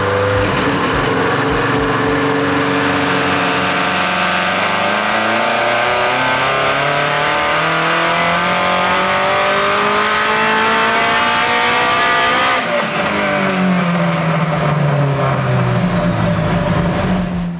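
A supercharged Toyota 86 race car with an FA24 engine, boost turned up past 20 psi, revs hard on a dyno. Loud, continuous engine notes sweep up and down through repeated pulls, with no voices.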